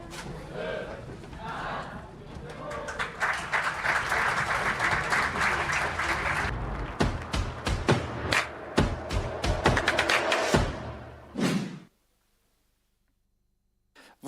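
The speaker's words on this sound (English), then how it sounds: "Please, let's applaud Nexans' commitment in this." Applause from a conference audience at Climate Day 2024 after a countdown, a loud sustained burst of clapping that breaks into scattered claps and fades out. Speech is mixed in.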